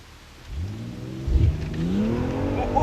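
A 500 BHP BMW M340i and a 485 BHP Audi TT RS launching side by side in a drag race, engines rising through the revs in a loud, sweeping surge with a gear change midway, close and without talk.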